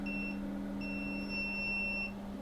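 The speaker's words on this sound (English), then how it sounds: "Stop beeping to tell me that you're dead." A water-damaged MacBook Pro (A2141) sounds a thin electronic beep twice, a short tone then a longer sustained one, over a low steady hum.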